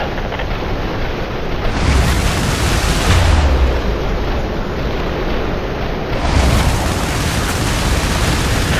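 Airstrike explosions in the video game IS Defense roll out as heavy, sustained booming rumbles, loud and wide, with swelling blasts near the start, middle and end.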